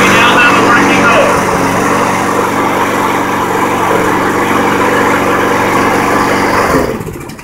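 Small lawn mower engine running steadily and loudly up close after a repair, a continuous droning roar that holds for several seconds before being cut off.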